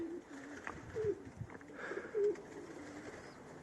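Young pigeons coo softly nearby, giving several low, throaty rolling calls at uneven intervals over a quiet background.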